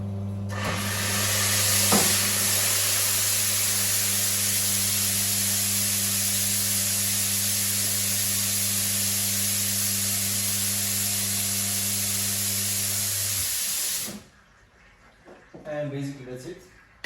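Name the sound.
espresso machine flushing water through group heads and steamers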